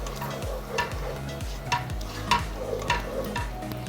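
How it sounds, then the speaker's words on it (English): Coconut milk cooking down in a pot for a Khmer red chicken curry, stirred in a steady rhythm with a spoon scraping around the pan roughly every half second over a soft bubbling sizzle. "You want to cook the coconut milk down a little bit so the flavors really come through. I'm just gonna keep stirring."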